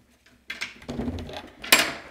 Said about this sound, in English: Let's open the cellar now.